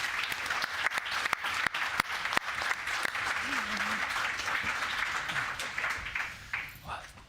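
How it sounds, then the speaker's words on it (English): A conference audience applauds the panel at the close of a discussion on intellectual property in Europe, a steady, dense round of clapping with some louder individual claps, holding for several seconds before tapering off. "our panel deserves a large round of applause"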